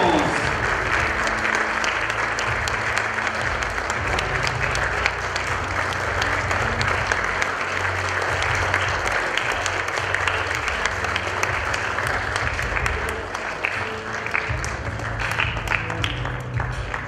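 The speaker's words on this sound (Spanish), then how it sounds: "Bien fuerte, fuerte los aplausos." Sustained, vigorous applause from a party crowd at a quinceañera celebration, many hands clapping continuously for the whole stretch at steady loudness, with faint voices underneath.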